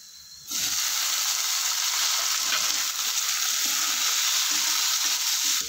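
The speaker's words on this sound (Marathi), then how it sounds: "टोमॅटो पण आपण ह्यामध्ये 2 मिनिट चांगला फ्राय करून घ्यायचा।" Tomatoes added to fried onions for dal tadka hit hot oil with a sudden loud sizzle that holds as a dense, close, continuous frying hiss.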